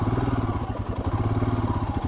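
A Royal Enfield Himalayan motorcycle engine thumps steadily under held throttle while riding off-road, giving a loud, continuous low pulsing drone with a slight dip partway through.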